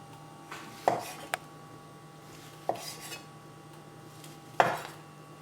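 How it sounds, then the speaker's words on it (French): Knife taps on a board as mushrooms are sliced beside a pan of melting butter: a few sharp, separate clicks and knocks over a faint hum, unhurried and close. "Le temps qu'on escalope les champignons"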